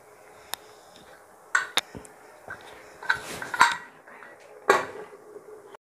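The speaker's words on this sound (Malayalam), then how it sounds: "ഇനി നമുക്ക് കുക്കറിൻ്റെ അടപ്പടച്ചിട്ട് മൂടിവെക്കാം" Metal clinks and clanks of a pressure cooker lid being fitted and closed over chicken biryani in a home kitchen, a handful of sharp knocks spread unevenly with quiet gaps between.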